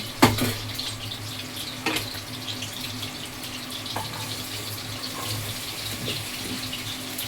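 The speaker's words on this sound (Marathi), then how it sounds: "4 चम्मच तेल टाकले, तर त्याच्यामध्ये मी कांदा ॲड करते" Chopped onion dropped into about four spoons of hot oil in a home kitchen pan for chicken biryani, a few sharp clatters at the start, then a continuous moderate sizzle and bubbling without speech.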